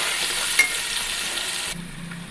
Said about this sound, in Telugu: ఇందులో నుంచి ఆయిల్ సపరేట్ అయ్యేంత వరకు బాగా ఆయిల్లో డ్రై అవ్వాలి